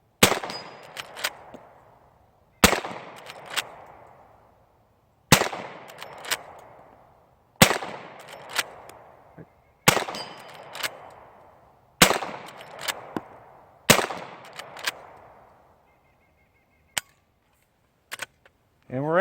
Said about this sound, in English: let's load this back up and run these crusty old 44 specials through and see how they go